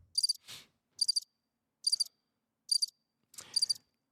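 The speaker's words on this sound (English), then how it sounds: "those are crickets" Crickets chirp in short rapid bursts, about five pulses spaced evenly apart, clear against near silence with a couple of soft rustles.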